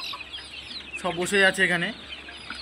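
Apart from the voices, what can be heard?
month-old chickens clucking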